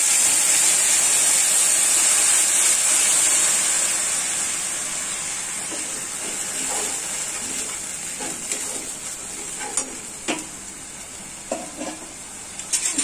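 Water hits a pan of frying onions with a loud, bright hiss, and the sizzle slowly settles to a softer steam. Scattered clinks and scrapes come near the end.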